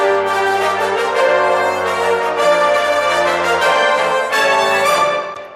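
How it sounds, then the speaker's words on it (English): Orchestral brass and woodwinds play together in a full, sustained chordal passage, bright and dense with swelling accents, loud and close with no voices. "So here's what's happening in the brass and the woodwinds."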